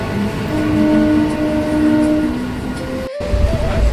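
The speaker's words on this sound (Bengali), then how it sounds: "First train Sealdah Gede local এখনই ঢুকবে।" An early-morning Sealdah–Gede local train rolls loudly into a station, its rumble filling the scene as sustained horn tones sound, then a brief gap before heavier clatter returns near the end.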